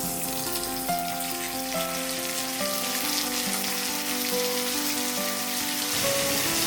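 Chopped vadukapuli lemon sizzles in hot oil in a pan while being made into pickle, a steady close crackling hiss with sustained tones from background music.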